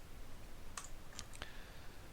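A computer mouse clicks three or four times in quick, sharp, isolated clicks during online form filling. The clicks are faint and sit over a quiet background hiss.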